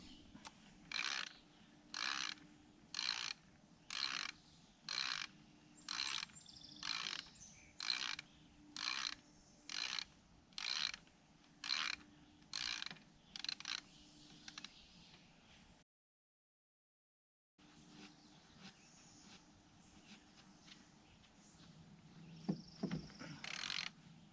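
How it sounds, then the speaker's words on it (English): Rhythmic mechanical ratcheting during an excavator track motor swap, as the track is collapsed with a grease-fitting tensioner: a regular series of about a dozen close clicking strokes, a short dropout, then scattered clanks and rubbing. "the next step is to collapse this track and get it off"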